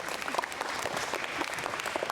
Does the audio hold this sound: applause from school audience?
yes